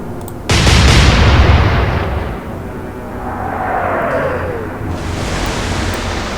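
A heavy warship gun salvo in the Atlantic Fleet naval game, a sudden loud boom at the start that rolls into a long rumbling wash, then a fainter whistling shell and a low ocean-like roar afterward.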